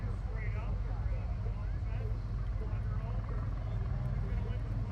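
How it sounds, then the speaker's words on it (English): A C-130 Hercules drones overhead at the Cleveland air show, a steady low propeller rumble under continuous talk. "Here comes the C-130."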